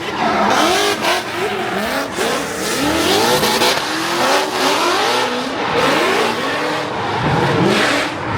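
Pro drift cars at a drifting event in New Jersey scream past the grandstands, engines revving and wailing in rising and falling sweeps with screeching tires, loud and continuous throughout.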